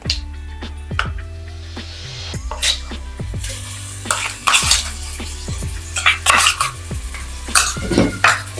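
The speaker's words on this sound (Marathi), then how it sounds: "दोन चम्मच गोडा मसाला मिक्स करूया ॲड करूया आपण वाटण केलेला मसाला" A spoon scrapes and clinks against a metal pot while goda masala and ground masala paste are stirred together for village-style Marathi mutton rassa, giving close, irregular clatters and knocks with no talking.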